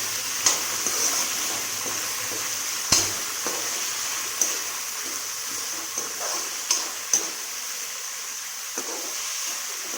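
Chana dal roasting in a pan for a Chhattisgarhi makhna bhaji dish, a steady soft sizzle with occasional sharp scrapes and taps of a stirring spoon, continuous and close.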